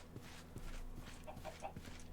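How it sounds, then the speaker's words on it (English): Chickens cluck on a rooftop on a video game farm, a few short soft clucks repeating over a steady low background hum. "They got roof chickens."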